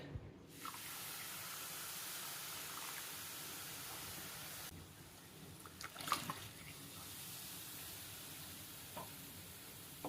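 Two cups of water pour steadily into a pan holding a cup of oats for pongal, a continuous rushing splash, close up, briefly stopping then resuming, with faint clinks.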